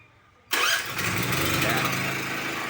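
An automatic generator set's engine cranks and starts after brief near-silence, then settles into a loud, steady running drone close by.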